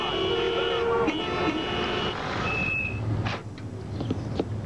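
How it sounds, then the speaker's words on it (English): Congested road traffic with vehicles lined up, a steady mix of engine rumble, a reversing beeper and a brief horn toot, close and continuous throughout. "Traffic's really backed up out there today."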